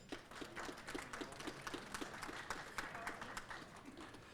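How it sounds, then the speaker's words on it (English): Sparse audience clapping for a culinary director at a county event, faint and uneven, with distinct individual claps standing out. "Give him a round of applause."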